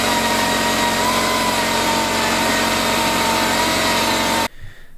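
A drill press grinds away at a heat-treated metal sprocket with a loud, steady, high whine and a constant hum, close up, before cutting off abruptly near the end.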